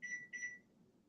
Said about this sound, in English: Let's do the timer here.